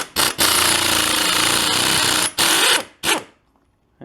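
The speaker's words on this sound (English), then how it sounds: "This is the tie rod end puller that I have." A tie rod end puller works on a 1968 Mustang's steering, giving loud, sustained rattling bursts like an impact tool, broken by short pauses and ending in a clipped final burst.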